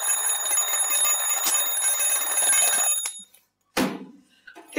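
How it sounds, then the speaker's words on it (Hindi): A bedside alarm clock rings loudly and continuously in the morning, a steady bright metallic trill that cuts off abruptly, followed by a short rustle or thump and another brief burst. "इतनी सुबह अलार्म लगाने का क्या तुक है?"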